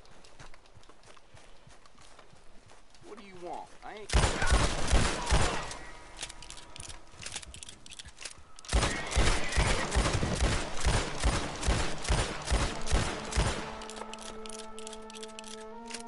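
Bursts of gunfire from a first-person shooter video game come in two loud rapid volleys, separated by quieter clattering, with a sustained tonal game sound rising near the end.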